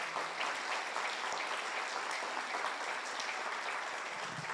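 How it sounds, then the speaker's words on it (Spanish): Sustained applause from a church congregation honoring Jesus Christ after an Easter resurrection message, a dense, even roar of many clapping hands lasting several seconds with no voices on top. "denle una ofrenda de palmas a Jesucristo nuestro Señor"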